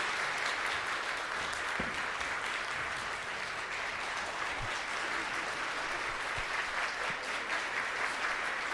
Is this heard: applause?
yes